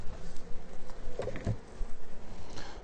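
Honeybees buzzing around a Layens hive during a spring inspection, a soft, continuous hum with a few louder passes of individual bees close by.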